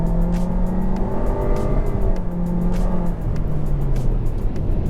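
Honda HR-V V-Spec engine revving steadily under load, a loud continuous drone with shifting harmonic pitch rising and settling over several seconds, no talking.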